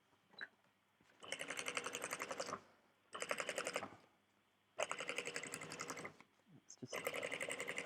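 A sewing machine stitches a seam on a bicycle handlebar bag in four steady, buzzing bursts of one to two seconds each, close and clear, separated by short pauses, with brief speech at the start.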